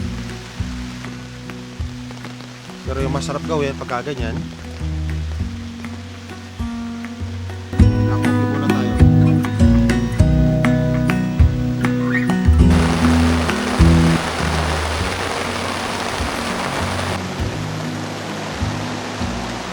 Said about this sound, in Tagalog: At biglang bumuhos ang ulan.